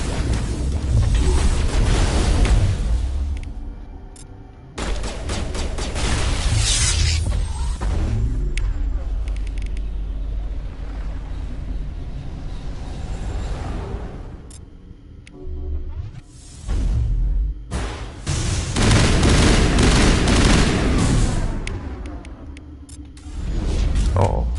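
Heavy gunfire and explosive blasts from a sci-fi shooter battle in a lab, loud and nearly continuous across the clip with brief lulls, booming impacts and whooshes layered together.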